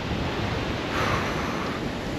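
Steady, strong wind blowing and buffeting the microphone, a constant rushing roar with no voices.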